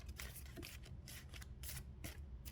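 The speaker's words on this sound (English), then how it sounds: "Last shuffle." Tarot cards being shuffled by hand in a quiet room, a steady series of soft riffling bursts repeating in rhythm, close and clear with no speech.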